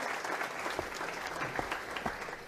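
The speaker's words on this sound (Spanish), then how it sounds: "Aplauso." A theatre audience claps in a steady, dense wash of applause that fills the short moment from start to finish, with no voices standing out above it.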